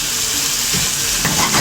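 Garlic sizzles steadily in hot oil, a loud continuous fry that swells with a brief burst of crackle as a spoonful of coriander drops into the pan and is stirred.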